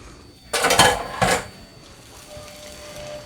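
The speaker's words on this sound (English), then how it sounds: "And then I'm just going to add my eggs." Raw eggs go into a hot pan with browned tomatoes for scrambled eggs. Two short, loud clattering bursts close together are followed by a faint, steady sizzle.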